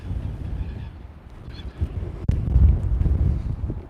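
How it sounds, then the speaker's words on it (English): High wind buffets a handheld microphone on an observation deck, a steady low rumbling roar that swells and gusts louder in the second half, with a sharp knock partway through. "You can tell that it's high wind."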